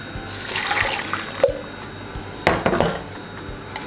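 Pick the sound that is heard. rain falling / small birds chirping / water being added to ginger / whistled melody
water being added to ginger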